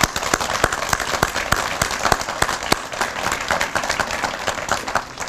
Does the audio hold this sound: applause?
yes